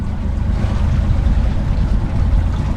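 Sailboat engine running at sea, a loud, steady low rumble that sits close and continuous with wind and water noise, no talk over it.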